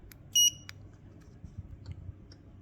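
A short, sharp electronic beep from a 2017 Hyundai Elantra remote starter confirming start stands out once, followed by faint clicks over a quiet background.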